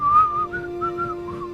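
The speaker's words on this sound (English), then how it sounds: "Wait, I can whistle." A person whistles a short melodic tune alone, a sustained note followed by several rising and falling phrases, close and clear over a steady low hum.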